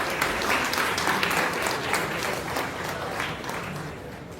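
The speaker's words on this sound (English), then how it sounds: "Let's give a round of applause for him." Audience at a tech meetup applauds a speaker, a full steady wash of clapping that slowly tapers toward the end.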